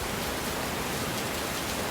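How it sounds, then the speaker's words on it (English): Steady heavy rain pours down at a neglected tropical island resort in Thailand, a dense, even hiss with no pauses and no other sounds. "As you can see, raining again."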